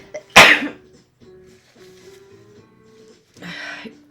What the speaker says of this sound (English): I'm gonna sneeze probably.